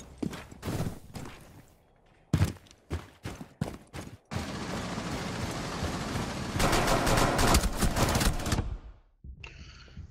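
P90 submachine gun fired from the hip in Rainbow Six Siege, first in short separate bursts, then one long loud continuous spray that cuts off abruptly, followed by a faint tail.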